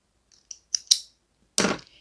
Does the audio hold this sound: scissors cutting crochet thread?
yes